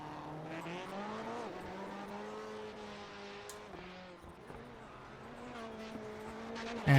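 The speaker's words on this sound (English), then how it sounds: "you're just going to hear some wonderful Rallycross cars for just a couple minutes" Rallycross race cars at a NASA Rallycross Challenge event lap the track, engines droning steadily with harmonic tones that rise and fall as they shift, heard from a distance with a sharp louder burst at the end.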